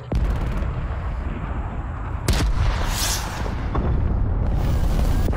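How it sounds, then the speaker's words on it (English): A cruise missile blast booms in Call of Duty: Black Ops Cold War on the Collateral map. A loud burst hits mid-clip over continuous gunfire and battle noise. "Cruise missile inbound."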